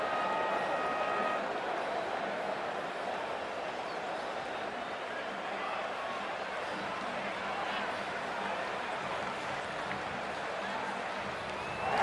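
A dense, steady roar from a large stadium crowd at an IPL cricket match in a video game, featuring the Gujarat Titans. The roar holds evenly throughout with no distinct claps standing out.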